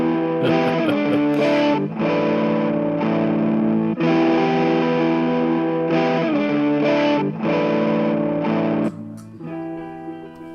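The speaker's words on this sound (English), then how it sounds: "So the distortion itself sounds pretty good." Heavily distorted electric guitar through a distortion pedal plays sustained chords with brief breaks between them, loud and saturated, ending with a quieter ringing note.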